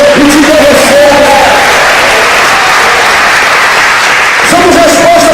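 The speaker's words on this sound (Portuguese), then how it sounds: "dá um aplauso ao Senhor" Loud, dense applause from a worship crowd at a youth camp gathering, sustained for several seconds, with a preacher's voice rising over it at the start and again near the end.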